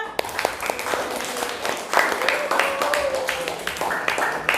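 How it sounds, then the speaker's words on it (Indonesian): Applause at the close of a school lesson on Asmaul Husna: steady, moderately loud clapping from a group of children, with voices talking over it throughout. "Tepuk tangan sekali lagi untuk kita semua."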